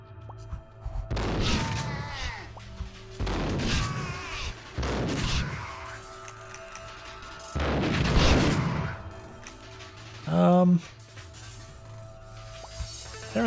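Enemy gunfire in the game Elevated Justice, heavy booming bursts of shots, each swelling and decaying over about a second, repeated several times with short gaps, loud and close.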